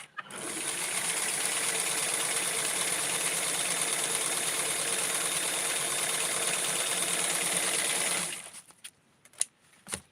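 A sewing machine runs continuously for about eight seconds, stitching the lining inside a custom lace garment with a fast, even mechanical whir, then stops, followed by a few faint clicks and handling sounds.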